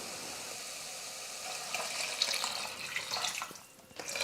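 Water runs from a tap into a pot of cabbage kulambu with masala stirred in, a soft steady pour that swells in the middle and then tails off near the end.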